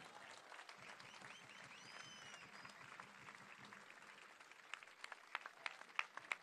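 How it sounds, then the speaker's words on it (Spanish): A crowd at a political rally in Rosario applauds steadily, dense clapping throughout with a few sharper individual claps standing out near the end, heard from a distance at low level. "Fuerte el aplauso."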